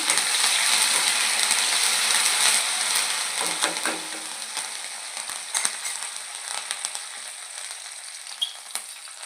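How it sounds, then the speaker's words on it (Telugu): Garlic frying in hot oil with curry leaves tossed in, a loud continuous sizzle and crackle that eases slightly, broken by scattered clicks and pops of stirring. "ఇదిగోండి ఎల్లుల్లిపాయలు వేగిపోయాయి కరివేపాకు వేసుకోండి"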